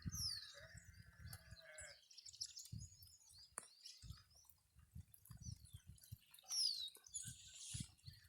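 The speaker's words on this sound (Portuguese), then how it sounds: "E a ovelha berra." Sheep bleating at intervals in dry backcountry countryside, with several short, wavering calls alongside scattered bird chirps and faint low rumbles. The scene is quiet and somewhat distant.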